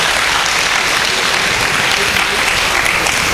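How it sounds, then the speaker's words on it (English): A large audience at a youth conclave claps loudly and continuously, dense sustained applause filling the hall with no break. "one big round of applause for him"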